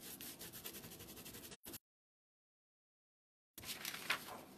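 Crayon rubbing over paper laid on sandpaper, a close, steady gritty scraping in rapid strokes, broken by a short silent gap before resuming.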